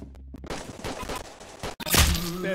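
Gunfire in the Roblox Arsenal video game, a rapid, dense burst of shots over about a second and a half, then a brief gap and a sharper loud blast.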